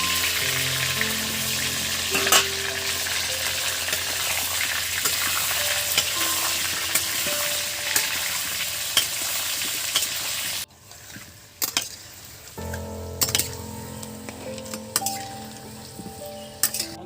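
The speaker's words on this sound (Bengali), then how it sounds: "আলুগুলো ভাজা হয়ে গেছে" Large potato pieces frying in oil for mutton curry, a steady close sizzle with scraping stir strokes and utensil clinks, then a sudden drop to quieter, sparser sizzling and clinks.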